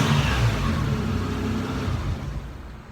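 A 1993 Nissan truck engine idles steadily after its injectors were replaced, a smooth, even running drone close by that fades a little toward the end.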